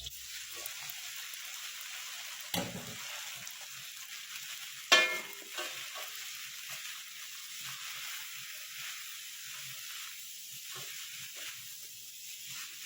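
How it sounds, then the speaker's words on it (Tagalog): Pansit canton noodles with seafood sauté in a pan with a steady, close frying hiss, broken by a couple of sharp clatters from stirring. "Ito naman si pansit ang gigisahin natin."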